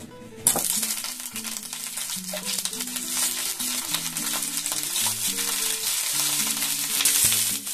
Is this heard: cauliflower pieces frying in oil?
yes